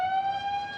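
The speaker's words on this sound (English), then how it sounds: "I might hit the shark alarm here" A beach shark alarm siren at Bondi Beach sounds a steady, loud electronic wail, one sustained tonal blast held throughout at close range with no voices over it.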